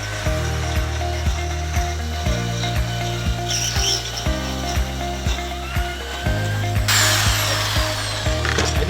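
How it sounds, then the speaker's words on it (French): Power drill boring into and driving screws through the wooden sides of a trash bin frame during assembly, with repeated steady motor whine and ratcheting bursts over continuous workshop noise, fairly close and loud. "Les 4 côtés de la poubelle sera percé et ensuite vissé au fur et à mesure à l'aide des vis que voici."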